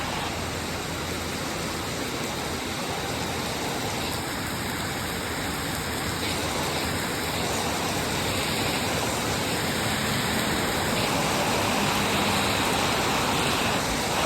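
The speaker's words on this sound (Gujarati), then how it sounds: "ધોધમાર વરસાદ છે" Heavy downpour of rain in Bodeli, a dense steady roar of falling water that holds evenly loud throughout, with no voices.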